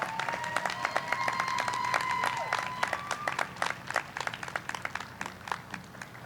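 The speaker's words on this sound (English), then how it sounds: "Again, let's give them a round of applause" Audience applause at a graduation and promotion ceremony, clapping that starts dense and thins into scattered, separate claps toward the end, with a faint tone under the opening seconds.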